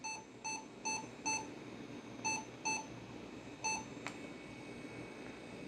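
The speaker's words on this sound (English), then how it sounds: "Some potentially unhappy beeps there." Japanese electronic device powering on with possible fault, giving a series of short, faint electronic beeps in irregular pairs and clusters over a quiet background hiss, plus a single click.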